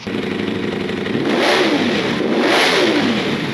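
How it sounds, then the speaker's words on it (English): A 2021 Ducati Panigale V4 SuperLeggera engine with a full Akrapovic exhaust revs hard twice, climbing in pitch with a raspy, throaty exhaust note over a loud steady idle. "let's introduce the sound of a properly tuned V4 with a full Akrapovic exhaust system"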